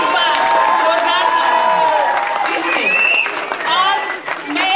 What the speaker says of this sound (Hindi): आपकी तालियां ये नहीं बता रही। एक बार जोरदार